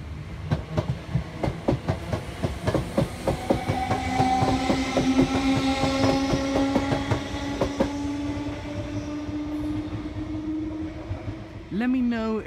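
A Class 321 electric train in new livery passes through Shenfield station during Friday evening rush hour, with rhythmic wheel clatter over rail joints building then fading, a long rising hum throughout, and a brief squeal near the end.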